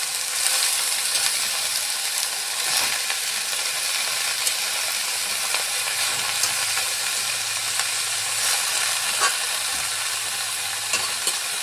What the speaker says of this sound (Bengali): অর্ধেকটা বাঁধাকপি দিয়ে আবারও নেড়ে চেড়ে দিব।